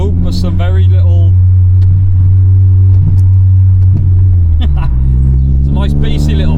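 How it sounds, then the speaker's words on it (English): A Honda Civic with an aftermarket eBay exhaust rumbles loudly up close, letting off a few small pops and burbles as the revs drop, with someone talking over it. "it does let off few little pops and burbles, nothing too asbo"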